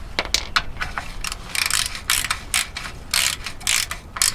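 Ratchet tightening bolts on a Ram truck, close rapid clicking bursts of the pawl in repeated strokes with short pauses between them.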